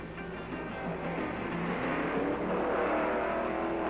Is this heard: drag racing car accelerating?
yes